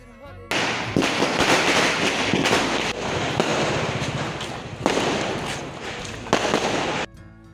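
Fireworks and firecrackers at a Ganpati immersion, including fountain fireworks and sky shots, make a loud, dense, near crackle and hiss of many rapid pops. Harder bursts come through, and it cuts off abruptly near the end.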